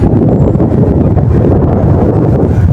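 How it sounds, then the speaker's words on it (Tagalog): Loud, roaring wind blasting the microphone without pause near a fire in Parañaque, a dense low rumble filling the whole stretch. "ang lakas pa naman ng hangin"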